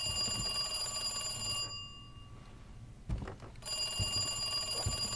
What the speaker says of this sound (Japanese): お電話入りまーす。